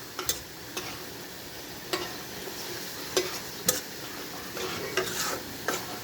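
Masala for prawn dopiaza is stirred and fried in a pan, a steady sizzle broken by scraping stirs every second or so, close and moderately loud, with no one speaking.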